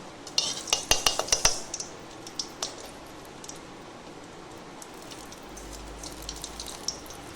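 Ghee goes into hot mustard oil in a pan, with a burst of clinking and sizzling taps near the start, then a faint steady sizzle for the rest.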